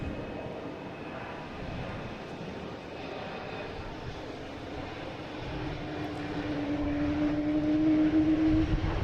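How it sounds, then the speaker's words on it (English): A Delta Embraer E175 jet airliner takes off, its broad engine roar rumbling from a distance and slowly growing louder and fuller as it climbs, with a rising whine in the final seconds. "we have a Delta taking off heading to Columbus, 5629 E175"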